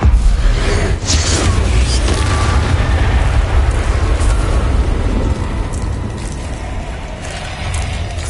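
An Incendio fire spell cast in Hogwarts Legacy, a loud roaring whoosh of flame with a deep booming burst at the start and a sustained crackling rumble that slowly fades.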